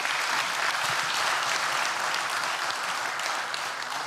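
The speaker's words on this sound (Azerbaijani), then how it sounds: "Mehriban xanımımıza alqışlayırıq burada." An audience at the eighth Mugham competition gives Mehriban khanim dense, continuous applause. The even roar of many hands lasts throughout, with no talking over it.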